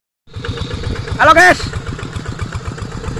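A Kubota TL 800 hand tractor engine chugs in a rice field with a steady, close, throbbing beat, while a voice briefly greets over it partway through.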